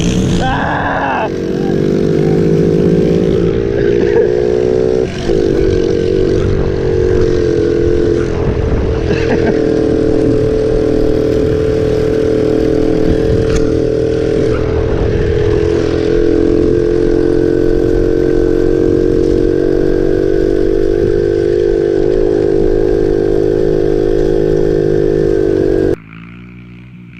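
Small dirt bikes drag race, a Kawasaki KLX 110, Honda XR 50, Yamaha TTR 110 and 50Z, their engines droning loud and steady for nearly the whole run with rising revs, close by, then cutting off near the end.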